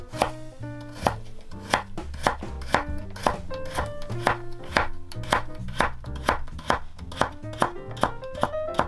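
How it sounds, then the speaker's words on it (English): A knife chops daikon, carrots and other vegetables on a cutting board, giving crisp, evenly spaced close-up thunks at a steady rhythm, with no voices. "Do you guys enjoy ASMR veggie cutting sounds?"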